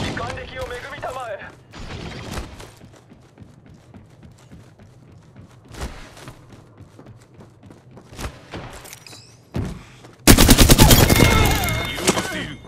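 Bursts of automatic gunfire and single shots from the battle royale game Apex Legends, scattered sharp cracks through the middle and a loud sustained burst of rapid fire near the end, with occasional game voice lines.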